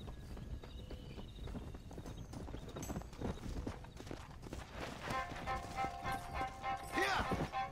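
Horse hooves clip-clopping in Red Dead Redemption: Undead Nightmare, a steady walking gait under game music and ambience, with a voice speaking over it.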